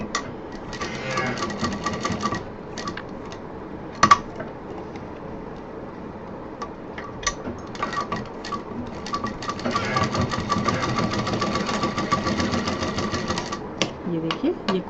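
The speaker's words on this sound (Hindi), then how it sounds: "रिंग डालने के बाद इसको यहाँ से इस तरह से सिल देंगे, पैक कर देंगे।" A sewing machine stitches a fabric strap onto a clutch purse, whirring close and steadily for a long stretch with brief stops, while a person talks over it.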